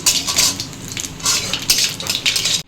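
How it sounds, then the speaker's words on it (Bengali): Nigella seeds crackle and spatter in hot mustard oil in a pan, heard as bursts of sharp spluttering mixed with light metallic clinks, close by with no voices. "তেল গরম হয়ে গেছে, 1/4 চামচ কালো জিরে ফোড়ন দিয়ে দিলাম।"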